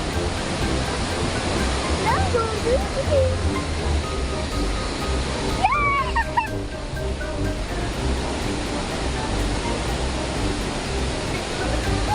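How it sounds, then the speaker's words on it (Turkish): A waterfall roars as a loud, steady broadband rush close by, and brief voices and whistle-like tones rise over the constant water noise. "Çok güzel şelale."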